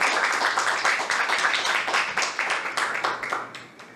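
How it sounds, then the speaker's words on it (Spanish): Audience at a panel discussion clapping, a fast cluster of distinct hand claps from a modest group, close and lively, tapering off toward the end. "aplauso."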